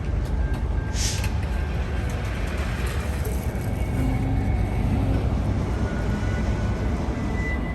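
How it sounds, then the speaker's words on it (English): The Great Southern luxury train stands across a level crossing in Australia, a steady loud rumble of engine and rail noise with a brief hiss near the start. "During this process, the train blocks the level crossing"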